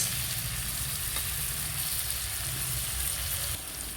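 Spice masala for a potol chingri curry fries in a pan, a loud, close, continuous sizzle that drops slightly near the end, with no talking.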